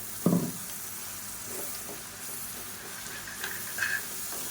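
Tomato and cashew paste sizzles and fries in hot oil in a pan for a home-cooked Indian side dish, with a steady hiss, a few stirring scrapes near the start and later, and no talk.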